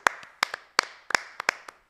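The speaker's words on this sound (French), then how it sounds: "round of applause. Bravo." A few people clap sparsely after a stand-up comedy round, about ten sharp separate claps in an uneven rhythm, close and distinct against near silence.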